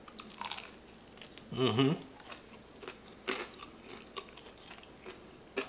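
Chewing on grilled butterflied chicken drumsticks cooked on a King Griller Gambler, a few faint close bites and crunches with a brief murmur from the eater.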